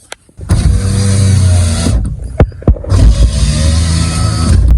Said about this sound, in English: So let's try the window now, see if it works.